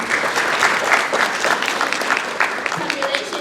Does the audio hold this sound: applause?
yes